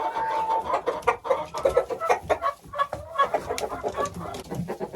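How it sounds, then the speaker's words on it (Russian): A hen sitting in a nest box, clucking and murmuring steadily in close, repeated short calls with little else around. "курочка сидит в гнезде"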